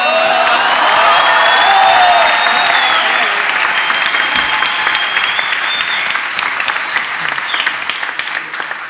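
Loud, sustained applause from a studio audience after a comedy sketch on a Turkish TV show, a dense wash of clapping that holds steady for about nine seconds and tapers slightly toward the end.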